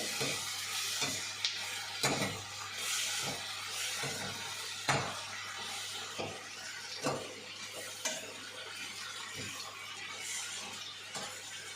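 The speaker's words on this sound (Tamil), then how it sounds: "நல்லா பச்சை வாசம் போகிற அளவுக்கு வதக்கிட்டேங்க" Vegetables, mint and other greens are sautéed in a pan for a mixed chutney, with steady sizzling broken by repeated sharp scrapes and clacks of a spatula stirring against the pan at irregular intervals.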